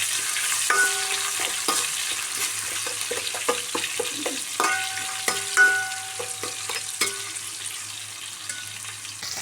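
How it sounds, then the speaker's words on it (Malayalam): About ten crushed red shallots frying in a pan as the base for a spicy fish curry, giving a steady close sizzle broken by scraping stirs and light utensil clinks. "ഇതൊന്ന് ഫ്രൈ ആവണം."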